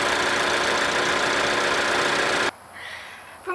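A Ford Focus with a 2-liter inline-four engine runs at a steady idle, giving a constant mid-pitched hum that cuts off abruptly partway through, leaving near silence.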